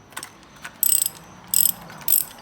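Ratchet wrench loosening a spark plug on a Honda J-series 3.5 V6 engine, three quick bursts of close, crisp ratcheting clicks separated by short pauses.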